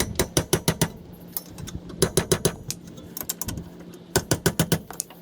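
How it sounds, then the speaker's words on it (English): Ratchet wrench tightening bolts on the rear brake caliper of a 2012 Toyota RAV4 during a pad and rotor replacement: three close, loud bursts of rapid ratcheting clicks, each a run of about five or six sharp pawl clicks. "Tightening up these bolts."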